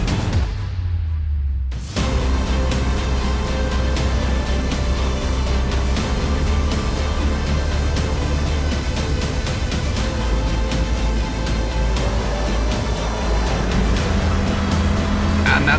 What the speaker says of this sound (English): there's Ray Collier heading out on track in the number 15 Golf